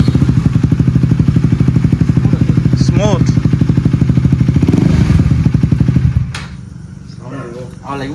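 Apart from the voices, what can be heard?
KTM Duke 250 motorcycle engine revving without exhaust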